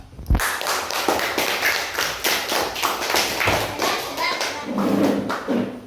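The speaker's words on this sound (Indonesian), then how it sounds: "tepuk tangan" Classroom applause from students after group presentations, a dense patter of clapping hands with sharp taps, fairly close and steady throughout, with some voices mixed in.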